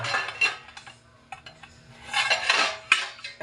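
Ceramic bowls and cutlery clink and clatter at a shabu-shabu hot pot meal, in scattered bursts that cluster into a denser rattle toward the end, close and fairly loud, with no talking.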